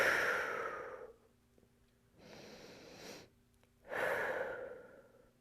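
Two slow, deep breaths during yoga, each an audible inhale and a longer airy exhale, close and soft, with short quiet gaps and no talking.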